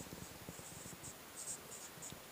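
Chalk or a marker scratches across a board in a maths lecture on height and distance, short scraping strokes in quick bursts with brief pauses, close and moderately quiet, no voice over it.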